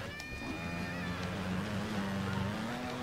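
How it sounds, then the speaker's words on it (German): A motorcycle engine in the Trials Evolution video game drones steadily with a rising whine, loud and continuous for the whole stretch. "dass die Motorengeräusche so extrem laut sind"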